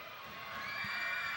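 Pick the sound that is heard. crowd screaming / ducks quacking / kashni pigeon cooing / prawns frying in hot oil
crowd screaming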